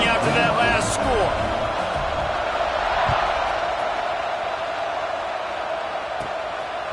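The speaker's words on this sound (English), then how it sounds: "this crowd is buzzing after that last score" A football stadium crowd of Texas A&M and FSU fans buzzes after a touchdown and extra point, a broad sustained roar with scattered whoops, slowly easing, while a voice talks over it.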